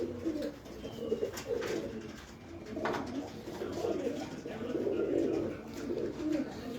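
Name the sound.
pigeons cooing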